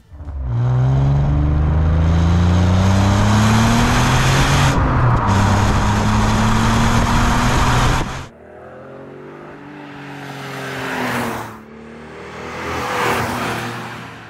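The 3.2 V6 of an Alfa Romeo 147 GTA revs hard and close, a loud rising howl for about eight seconds that cuts off sharply, then two quieter, shorter blips fade in and out.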